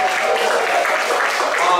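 Applause from a church audience for children who have just performed at a youth Black History Month program, a loud, steady wash of clapping lasting the whole short moment.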